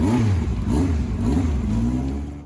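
A Yamaha YZF-R1 superbike engine revs steadily and loudly, its pitch rising and falling in close, continuous waves with no voices.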